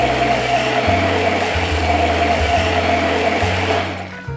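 A food processor whirs loudly and steadily, blending pesto with cheese and olive oil, its motor pitch shifting in steps as the contents churn, then spinning down near the end.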